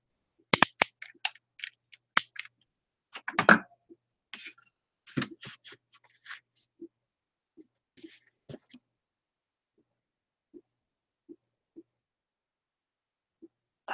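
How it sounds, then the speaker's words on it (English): Upcycled packaging being cut down the middle by hand, a run of sharp close snips and cracks up front, then sparse soft ticks and scrapes spaced out over quieter stretches, with no talking. "what I'm going to do first is cut down the middle"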